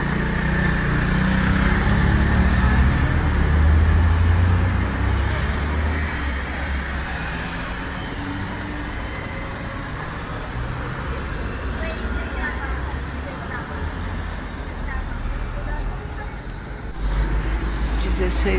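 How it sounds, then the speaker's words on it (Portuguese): Street traffic in São Vicente, São Paulo, with engines rumbling nearby and vehicles passing, a heavier surge early that eases into a steady background hum, with voices talking over it. "Trânsito."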